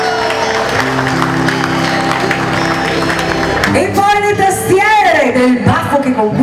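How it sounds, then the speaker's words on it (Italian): A crowd's dense applause washes over a live band at a festive concert, cheering the drummer, before a voice and music take over near the end. "merita un applauso bello grande"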